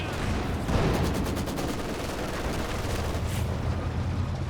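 Machine gun fire crackles in a Company of Heroes 2 battle, a dense stream of rapid shots running under steady rumbling battlefield noise, with no voices.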